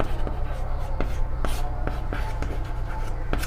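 A pen writes out a maths solution on paper in short scratchy strokes with small taps between them, close and steady over a low room hum.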